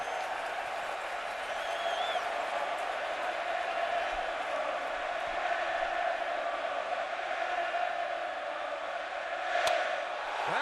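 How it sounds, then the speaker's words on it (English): A standing-room-only stadium crowd at a Pirates vs Reds 2013 NL Wild Card game roars and jeers at pitcher Johnny Cueto, a sustained distant wall of crowd noise with a brief louder swell near the end. "this standing room only crowd trying to get under Johnny Cueto's skin"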